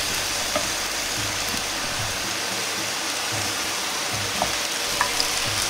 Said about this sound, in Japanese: 人参がこのくらいにテカったらキャベツを入れて炒めます。